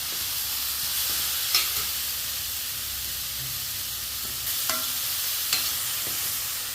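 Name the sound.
beetroot being sautéed in a pan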